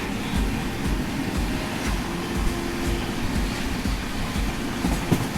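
The Gangaur Superfast Express train on the Jaipur–Mumbai route rolls along with a steady rumbling drone and faint rhythmic clickety-clack from the wheels, heard from inside the carriage.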